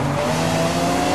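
An Apollo Intensa Emozione supercar engine in a racing video game revs hard and loud, a dense sustained roar with layered harmonics holding steady throughout.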